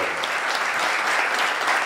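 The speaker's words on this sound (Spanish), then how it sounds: "El aplauso que se escuche, por favor, para Luis Bencoster." Applause from a lecture audience for a historian after his talk, a steady, dense wash of many hands clapping fairly close and loud, unbroken throughout.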